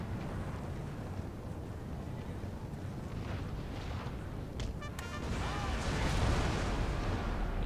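Distant cannon artillery booms in a Napoleonic battle from Napoleon Total War, muffled and rumbling over a low battlefield din, with a sharper crack and rising noise toward the end.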